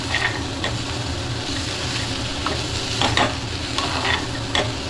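Japanese noodles stir-fried with sauce in a hot pan, a steady close sizzle broken by several sharp scraping clatters of the utensil tossing the noodles, with no voices.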